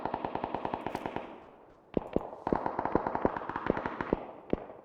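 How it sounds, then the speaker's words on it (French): Rapid automatic gunfire from the battle royale game PUBG rattles in quick bursts, a dense string of sharp shots followed after a brief pause by another volley, with no talk over it. "Oui, ça tire à gauche."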